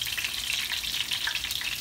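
A red snapper fillet sizzles and crackles loudly in a frying pan as it is flipped, a dense continuous fry close by with no voices.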